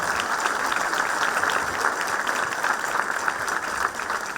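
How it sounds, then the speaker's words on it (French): A crowd at a New Year's wishes speech claps warmly and continuously, a thick, even patter of many hands sustained throughout at moderate volume. "Et on peut l'applaudir bien fort."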